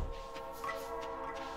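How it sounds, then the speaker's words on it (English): Train rolling past in the Stardew Valley farming game, its horn sounding as a steady sustained chord over a continuous rumble, moderately loud and close, with no talk over it. "I'm not gonna be able to get that train."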